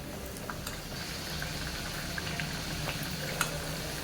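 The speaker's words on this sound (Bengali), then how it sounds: "আর একটা লুচি তেলের মধ্যে দেবো" Luchi, the puffed Bengali fried bread, bubbling in hot oil over a medium gas flame, a steady close sizzle with faint crackles and a few soft pops throughout.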